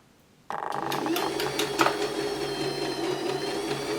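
A Janome My Style MS22 sewing machine starts up after a brief quiet moment and runs steadily, its motor whirring with a fast repetitive mechanical chatter as it stitches, close and fairly loud.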